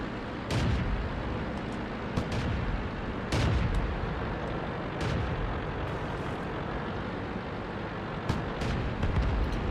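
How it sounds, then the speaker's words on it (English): Artillery fire in the World of Tanks video game, with heavy booms and sharp cracks scattered over a dense, continuous roar of battle noise that never lets up. "There's their artillery."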